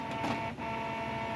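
A Canon Pixma printer with an 03E error runs with a steady mechanical whir and hum, holding even and fairly loud for just over a second with a brief dip midway and no talking.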